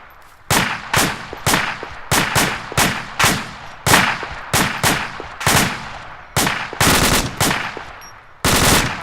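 Rapid bursts of gunfire at a shooting range, loud and close, firing in quick groups of shots with short pauses between strings and a sustained run of near-continuous fire near the end.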